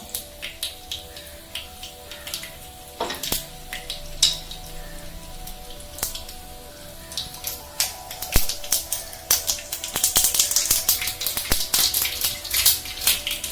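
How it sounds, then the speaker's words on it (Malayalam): Mustard seeds popping and crackling in hot oil, scattered sharp snaps that grow denser and sizzle more toward the end. "കടുക് പൊട്ടിയിട്ടുണ്ട്."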